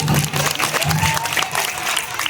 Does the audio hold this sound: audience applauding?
yes